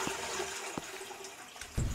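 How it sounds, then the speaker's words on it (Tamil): A toilet flushes in an internet cafe simulator video game, a faint watery gush with brief clunks and a louder surge at the end. "ஃப்ளஷ் மட்டும் பண்ணி விட்டுருவோம்."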